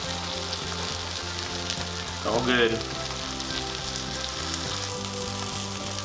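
Jerk chicken wings sizzle and fry on a Chefman indoor smokeless grill, a steady close crackle with a brief louder burst as pieces are shifted, while someone speaks briefly over it.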